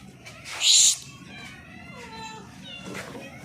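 Several cats at a home meow close by, starting with one loud, sharp mew. Softer, wavering meows follow in the background, and people speak nearby.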